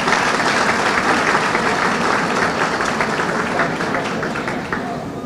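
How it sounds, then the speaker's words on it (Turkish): A crowd at an outdoor ceremony marking the anniversary of Bursa's Bursaray rail line gives hearty applause, loud and sustained clapping from many people that tapers slightly toward the end. "yürekten bir alkış istiyorum öncelikle"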